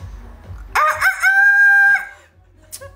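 A man imitates a rooster's crow with his mouth, one rising then long sustained tonal call lasting over a second, close and loud, preceded by a few short vocal sounds.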